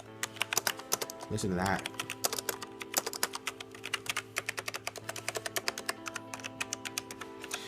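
Quick, steady typing on a Logitech G613 keyboard with smooth, non-clicky keys, giving a dense run of soft, close tapping, with a person talking briefly partway through.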